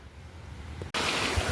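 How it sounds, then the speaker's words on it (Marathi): A monsoon-swollen stream rushing along, a broad, steady roar of flowing water heard close and loud, with wind buffeting the microphone at first. "हा आमचा आहे परा, म्हणजे ओढा आहे, ओढा. पाणी बघा केवढं आलं आता पावसाळ्यात"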